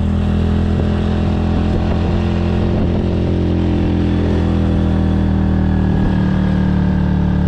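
A motorcycle climbs an asphalt road uphill toward Mount Rinjani via Sembalun in North Lombok, its engine a loud, steady, close drone with slight shifts in pitch throughout.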